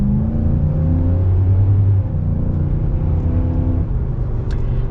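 A 2021 Nissan Titan PRO-4X pickup with a 5.6 V8 accelerates, its engine a loud, steady low rumble that climbs in pitch through the first two seconds, then settles into a continuous drone.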